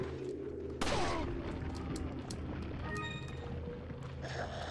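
Gunfire in the video game Resident Evil 4: a sharp loud blast rings out early, followed by a busy mix of game effects and scattered lighter shots, with no talking.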